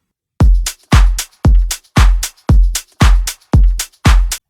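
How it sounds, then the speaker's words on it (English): A steady electronic drum pattern of punchy kick hits, about eight evenly spaced beats, each with a bright snappy top, loud and dry. "added some drums."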